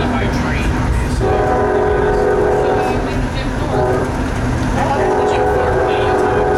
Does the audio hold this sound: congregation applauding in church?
no